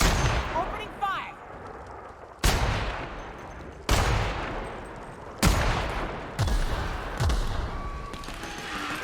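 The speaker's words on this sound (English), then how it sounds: "Opening fire!" Gunfire in the video game The Outer Worlds, with a series of sharp, loud shots and blasts spaced roughly every second or so, each trailing into a short echo, with brief game voices early on.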